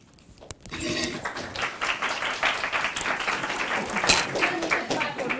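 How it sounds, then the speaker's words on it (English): An audience breaks into sustained applause, many hands clapping steadily and fairly loudly for several seconds. "Clap for the award winner"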